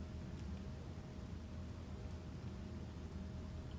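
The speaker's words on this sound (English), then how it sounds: "I don't care if it's raining." Rain in the video game Space Engineers: a steady, dense hiss of rainfall with a low rumble underneath, constant and fairly soft.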